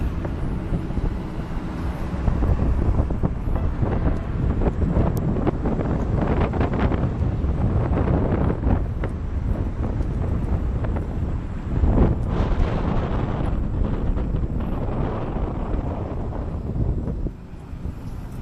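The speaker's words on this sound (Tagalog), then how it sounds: "Mahangin sa labas." Steady, heavy wind buffets the microphone with a low roar, gusting stronger now and then, while riding on the outside of a moving jeep in Manila.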